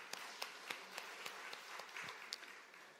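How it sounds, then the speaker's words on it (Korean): Scattered applause at a Korean church Sunday worship service, soft and somewhat distant, with a few sharper individual claps standing out over a continuous patter. "박수 한번 하겠습니다"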